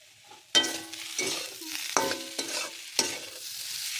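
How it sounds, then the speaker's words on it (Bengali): A vegetable curry fries in a pan while a utensil scrapes and knocks against it in several distinct stirring strokes, with a soft sizzle between them, close up and without talk. "আমি তরকারিটা ভাজতেছি মানে ভাজা করতেছি তরকারিটা"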